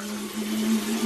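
Tap water runs steadily in a bathroom sink during a morning face wash, a continuous close hiss with a faint hum beneath it and no talking.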